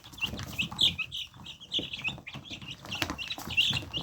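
Hens cluck and chicks peep in a busy, continuous chatter, close by, with no voices.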